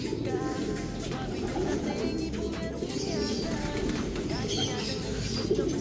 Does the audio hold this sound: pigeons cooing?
yes